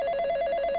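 Telephone bell ringing continuously and close, a steady trilling ring with no pauses, standing alone without voices.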